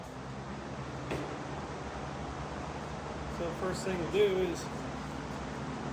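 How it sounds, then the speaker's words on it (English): A steady shop fan whirs as a constant broadband hiss throughout, with a person speaking briefly over it, during cleaning of a one-pound powder coat hopper. "Sorry if that fan's a little loud."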